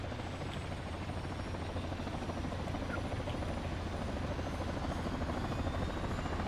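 Military helicopter in the Arma video game, a steady low rotor thrum and engine drone holding at constant loudness for the whole stretch, close and continuous with no voices over it.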